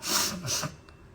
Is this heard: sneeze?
yes